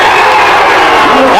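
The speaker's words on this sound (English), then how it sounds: "And this Mavericks crowd loves it" A home crowd at a high school boys basketball game between Glen Allen and Douglas Freeman roars and whoops after a three-point shot, loud and sustained, with an announcer's voice over the cheering.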